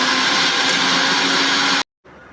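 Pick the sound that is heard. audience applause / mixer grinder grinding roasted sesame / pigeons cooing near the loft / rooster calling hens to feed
mixer grinder grinding roasted sesame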